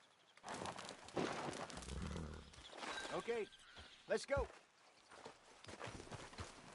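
A horse's hooves clip-clop at a walk in the Red Dead Redemption 2 video game. The steady rhythmic footfalls play under a voice, with faint birdsong in the background.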